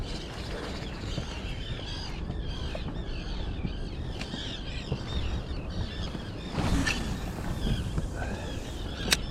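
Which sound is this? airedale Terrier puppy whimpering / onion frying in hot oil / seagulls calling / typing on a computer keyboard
seagulls calling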